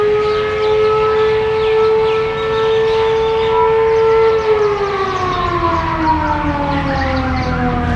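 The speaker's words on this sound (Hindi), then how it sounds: "फौरी तौर पर कलंदर विंग में इमरजेंसी सायरन बजाया जाने लगा।" An emergency siren wails in a long, loud, steady tone that holds its pitch for several seconds and then slides downward as it winds down, with no voices over it.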